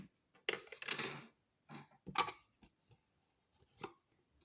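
Snips and crinkles as double-sided tape is cut for a matchbox mini album craft, a few close, quiet bursts of scissor cuts and tape handling separated by silence.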